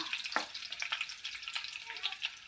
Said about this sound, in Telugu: ఇగో తాలింపు వేస్తున్నాను